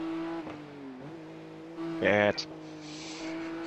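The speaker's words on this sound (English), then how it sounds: "It's a car in the pit lane." A race car in the pit lane in a racing video game, a steady engine hum with a brief louder burst of revving near the end, under a speaking voice.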